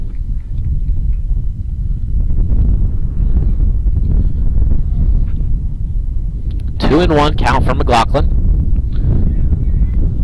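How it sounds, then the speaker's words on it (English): Steady wind buffeting the microphone at an outdoor high school baseball game, a loud constant low rumble throughout, with a commentator talking over it. "Wind gusting in now."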